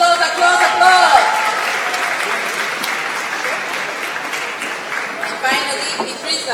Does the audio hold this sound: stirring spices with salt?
no